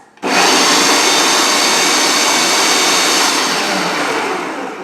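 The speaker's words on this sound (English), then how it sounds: "I'm going to blend it a little bit" Countertop blender whirring steadily through brownie batter of eggs and baking soda, a loud continuous motor roar starting abruptly and holding for several seconds, easing slightly toward the end.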